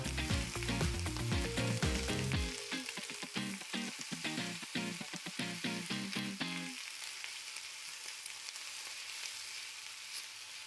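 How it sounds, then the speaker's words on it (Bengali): Potatoes frying in hot oil in a pan for a Bengali egg curry, giving a steady, close sizzle that runs the whole time, with background music over the first part. "আলুগুলো সেদ্ধও হয়ে গেছে এবং ভাজাও হয়ে গেছে"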